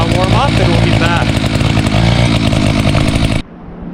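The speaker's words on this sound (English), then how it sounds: "Just going to let the saw warm up, and we'll be back." An Echo CS590 chainsaw idles while warming up: a loud, close, steady buzzing engine drone with slight fluttering, then it abruptly cuts off, leaving quiet background.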